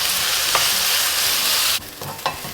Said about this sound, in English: And next goes in our chopped up onions. Just going to cook until they're lightly golden.